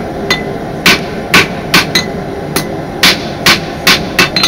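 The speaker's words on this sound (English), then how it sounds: "I'm trying to strike with the hammer there and on the opposite side on the anvil" A hammer strikes a blade on an anvil during forging, about a dozen sharp metallic rings spaced in an uneven rhythm, loud and close with no talk.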